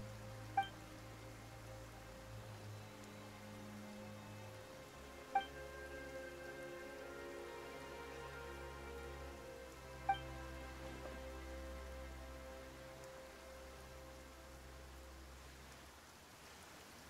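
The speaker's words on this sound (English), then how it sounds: "Why is it raining all of a sudden?" Rain falls in the Genshin Impact game world as a faint, steady hiss of drops, with a few soft isolated ticks over a low background hum.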